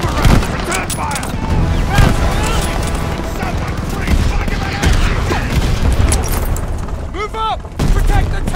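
Loud, dense gunfire and booming explosions in the War Machine video game, sustained machine-gun bursts rattling continuously, with voices shouting through the battle noise.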